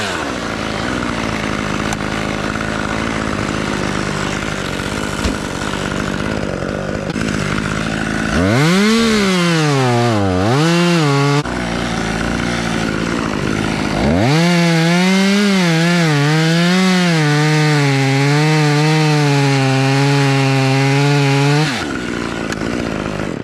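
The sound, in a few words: chainsaw cutting elm tree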